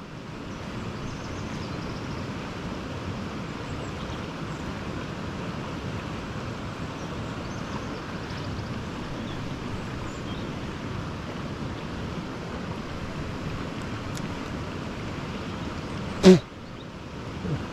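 Strong, turbid mountain river runs fast through a wild trout-fishing spot, giving a steady, loud rushing wash of water with no pause, joined by a brief knock near the end.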